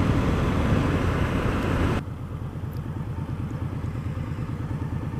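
A motorcycle pulls away on a test ride. Its loud close engine roar drops off abruptly and settles into a steady, rhythmic, lower putter as the bike moves off.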